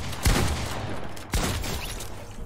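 Two distinct gunshots in the Fortnite video game, spaced about a second apart, each a punchy low-heavy crack over a steady game-noise background.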